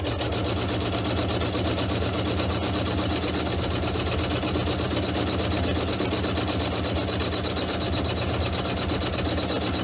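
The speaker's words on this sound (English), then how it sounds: "now I'm going to stitch the next step, which will be the decorative stitches on the bottom" An embroidery machine stitches decorative stitches along the bottom of a pouch in black thread, a steady rapid mechanical whirring and ticking that runs unbroken and close throughout.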